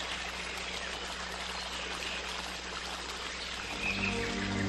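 Water flows gently through a forest, a steady soft trickling stream that swells slightly near the end, with no voices.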